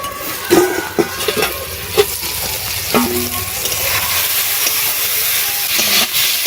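Kohlrabi, potato and tomato fry in a pan with a continuous hiss of steam and sizzle, punctuated by sharp knocks of stirring against the pan.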